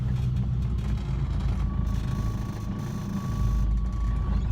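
A Subaru EJ20-powered Kombi driving, heard from inside as a steady low engine drone and road rumble, with a faint thin whine above it.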